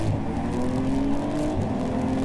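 GT Cup Series race cars roll behind the pace car at the Slovakia Ring, a dense, steady engine drone with layered low harmonics and a gently rising tone, close and continuous without talk.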